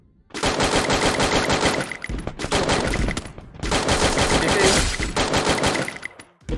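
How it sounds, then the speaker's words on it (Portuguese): Rapid automatic gunfire from the battle-royale video game Free Fire rattles out in two long, loud bursts separated by a short pause, close and dominant. "Botou um tiro na árvore."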